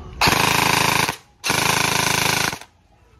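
A Bohan MK8 V2 gel blaster with an SHS internal upgrade, running on an 11-volt battery, fires two loud, close full-auto bursts of about a second each, a rapid mechanical buzz separated by a short pause.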